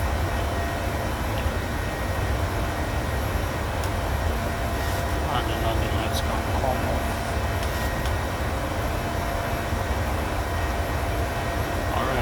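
A PMDG Boeing 737-700 in Arik Air livery climbing after takeoff in Microsoft Flight Simulator gives a steady, unbroken engine roar that holds at constant loudness throughout.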